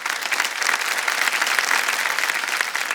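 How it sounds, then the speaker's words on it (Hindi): Studio audience at a televised quiz show clapping steadily to welcome a contestant's husband, a dense, even burst of applause with no talk over it. "हम चाहेंगे कि सब लोग तालियों के साथ इनका स्वागत करें।"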